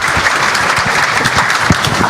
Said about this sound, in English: Let's applaud Carol.